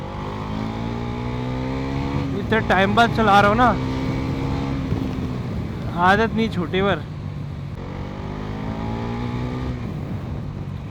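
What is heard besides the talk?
Bajaj Pulsar NS400 motorcycle engine while riding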